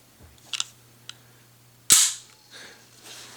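Slide of a Beretta Px4 Storm .40 caliber subcompact pistol locked back, a few small metallic clicks followed by one sharp loud metallic snap up close, no speech.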